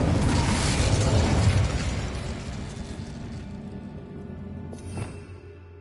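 An Incendio fire spell from Hogwarts Legacy erupts as a dense, loud roaring burst that slowly dies into a softer rumble, with a small pop near the end.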